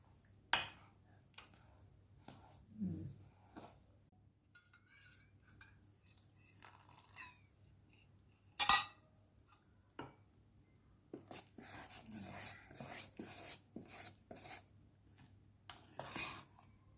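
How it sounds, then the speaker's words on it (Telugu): Cake batter with butter being mixed in a bowl, quiet scattered clinks, taps and scrapes of a utensil against the dish, in irregular bursts with pauses and a busier stretch near the end. "ఇది ఇప్పుడు మంచిగా బాగా మిక్స్ చేయాలి"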